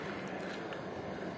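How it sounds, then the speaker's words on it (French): A steady, even broadband whoosh of a heater running, constant and fairly quiet with no speech over it. "ce que vous entendez, c'est le chauffage"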